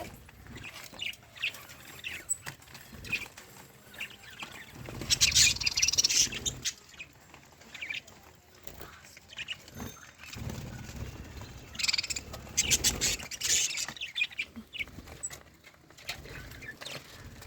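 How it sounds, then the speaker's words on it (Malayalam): Lovebirds chirp and chatter in two louder bursts separated by quieter stretches, with faint ambient noise between. "നിങ്ങൾ കണ്ട അവിടെ കുറേ കിളികൾ"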